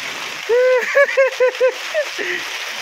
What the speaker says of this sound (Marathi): हे बघा किती जोरात पडतोय बघा